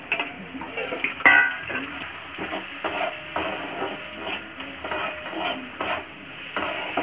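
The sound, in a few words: stirring ginger, garlic and green chili in a frying pan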